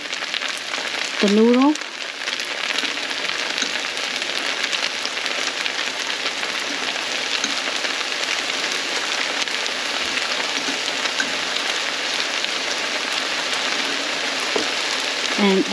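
Potato noodles sizzle steadily in a hot pan on high heat with garlic as sauce is sprinkled over them, a continuous close frying hiss; a voice speaks briefly early on.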